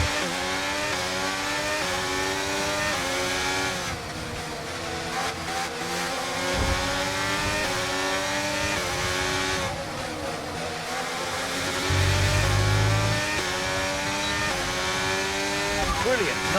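Formula One cars in the F1 23 racing game, engines screaming at high revs with rising and falling pitch as several cars race and overtake, under continuous commentary.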